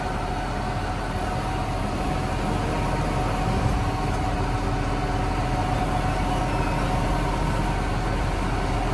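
A tractor engine runs steadily in a low gear during a potato harvest, a continuous rumbling drone at close range with no talking.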